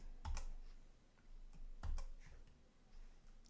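Quiet typing on a computer keyboard: two small clusters of sharp key clicks about a second and a half apart, with faint ticks in between.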